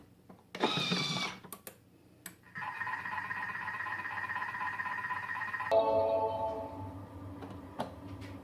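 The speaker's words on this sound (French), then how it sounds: "je vais faire une cuisson de 8 minutes à la température 95, vitesse cuillère" A kitchen robot cooking tomato on its stirring spoon setting at 95 degrees hums steadily and close, its motor tone shifting partway through, after a short burst of clattering as it starts.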